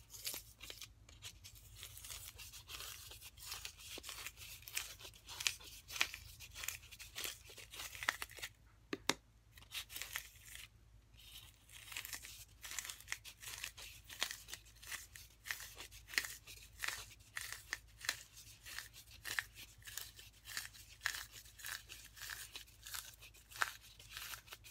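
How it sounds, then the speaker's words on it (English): Scissors dig styrofoam out of a Dollar Tree foam pumpkin in a craft project, a long run of close, crisp scraping, crunching and tearing strokes in an irregular rhythm with brief pauses, with no talking. "I'm just going to dig some of that styrofoam out."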